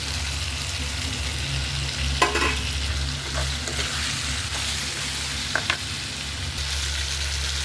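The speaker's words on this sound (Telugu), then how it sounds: "ఇప్పుడు నెత్తళ్ళు గుడ్లు వేసుకుందాం." Dried fish roe frying with softened tomatoes in a pan, a steady low sizzle with a few brief clatters of stirring, moderately quiet and without speech.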